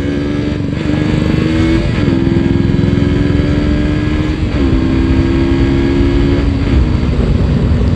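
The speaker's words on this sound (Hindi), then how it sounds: "चलो बुलेट वाले भैया के साथ आज रेस करते हैं गाइस।" Loud, steady engine drone from motorcycles racing along an Indian road beside a Bullet rider, the pitch stepping up through gear changes, close and constant with wind noise throughout.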